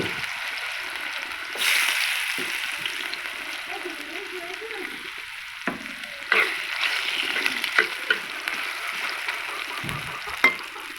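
Homemade French fries sizzle steadily in hot oil, a continuous frying hiss with occasional small clanks and splatters, close up and with no talk over it.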